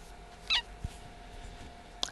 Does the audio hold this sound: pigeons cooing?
no